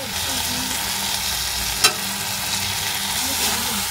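Tomato, onion and red chili powder are stirred in a hot pan, giving a continuous close sizzle broken by one sharp scrape of the utensil partway through.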